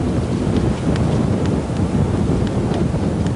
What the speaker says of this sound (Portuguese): O vento forte que sopra aqui foi trazendo areia